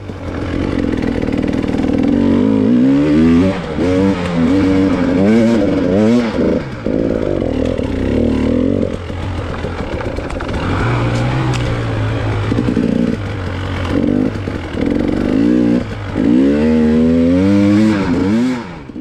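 A KTM 300 two-stroke dirt bike climbing a hill, its engine loud and close, revving up and down in repeated bursts with gear changes and brief drops in throttle, with no voices.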